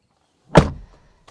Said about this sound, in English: As I close up the door